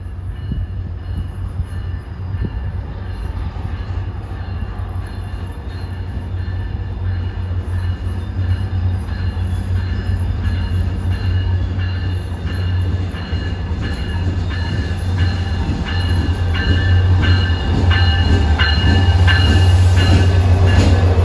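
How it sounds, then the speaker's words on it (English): Caltrain local train 114, hauled by an MP36PH-3C diesel locomotive, passes close by with a deep steady engine rumble and rolling wheel noise that builds in loudness over the whole stretch, with faint rhythmic rail clatter. "Here comes train 114, a local to San Jose."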